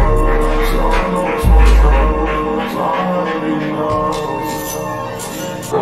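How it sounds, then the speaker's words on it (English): A song slowed down with reverb added in Sony Vegas plays as a dense, washed-out music mix with booming low bass hits and smeared, echoing tones, with no talk over it. "so now we're going to add the reverb to it"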